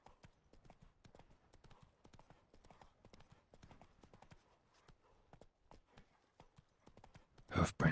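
Horse hoofbeats in a video game, a rapid, steady clip-clop of galloping that stays fairly faint and close before a loud burst of noise at the end.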